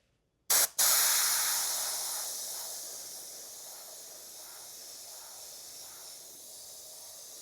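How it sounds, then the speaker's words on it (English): An Iwata airbrush sprays teal paint with its air pressure turned way down for custom RC body work, opening with a short burst and then settling into a steady, close, fairly quiet hiss that fades slightly and runs alone. "I got that airbrush, or the air pressure turned way down, but it's working just fine"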